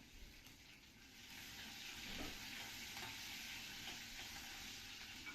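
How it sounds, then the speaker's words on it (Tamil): Dried red and green chillies sauté in a pan for a marriage-style carrot beans poriyal, giving a steady soft sizzle with occasional stirring scrapes and no talking. "2 மிளகாயும் நல்லா வதக்கிக்கலாம்."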